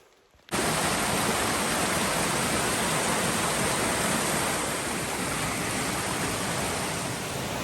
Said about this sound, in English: Nice waterfall, Comus Falls.